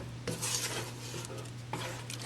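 A spoon scraping and stirring thickening homemade play dough in a cooking pot, with two sharp metallic scrapes against the pot over a soft, steady stirring rasp.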